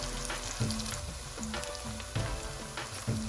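Onions and ginger garlic paste fry together in a pan for chicken biryani, giving a steady close sizzle with a faint bubbling hiss and a few soft, recurring stirring scrapes.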